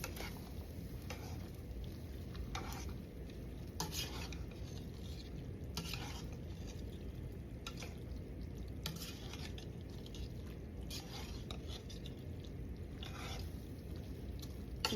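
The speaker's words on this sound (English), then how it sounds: "Okay, so now we mix." Pasta with meat sauce being stirred in a pan, a steady scraping and stirring with a soft sizzle underneath and occasional clinks of utensil on the pan, close and continuous with no talking.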